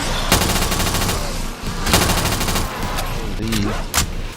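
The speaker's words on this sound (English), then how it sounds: "Let's see if I can do some work with this automatic pistol" Automatic pistol fire in Black Ops 3 zombies on the custom map Machin[A], loud rapid bursts repeating in several strings with short gaps, amid game effects.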